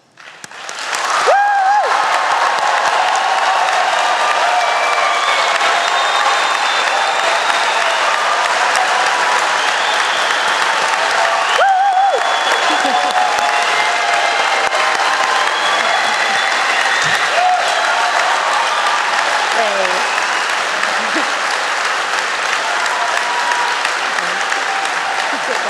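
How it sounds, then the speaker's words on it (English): A large audience at a London degree ceremony applauds its graduates, loud, dense and sustained clapping that carries on for nearly half a minute without a break, with a few cheers and voices scattered through it. "we're going to give them our first major round of applause."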